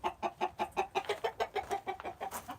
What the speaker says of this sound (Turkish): İşte tavuklar var.